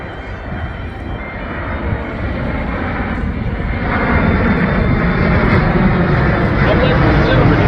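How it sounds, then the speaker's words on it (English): Massive C-17 military transport jet circling over the airfield at an air show, a loud broad engine roar that swells steadily as it passes, with a voice audible over it. "The C17 will now maneuver for his circle over the airfield"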